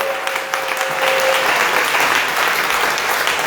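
A church congregation claps in sustained, dense applause during a French-language worship service, loud and continuous for the whole stretch, with a faint sustained tone early on.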